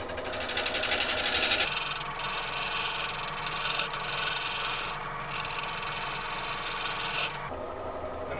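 An oak bowl spins on a wood lathe while a turning tool cuts into it, making a steady droning motor hum with a continuous rough cutting tone that shifts slightly partway through, close and without talk.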